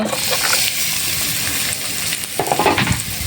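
Chopped onion and garlic frying in oil in a wok, a loud, dense sizzle with stirring scrapes toward the end, close up.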